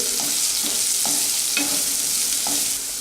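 Finely chopped onions sizzle steadily in a hot pan with a few cumin seeds, while periodic spoon strokes scrape and stir through them in a loose rhythm, close and fairly loud.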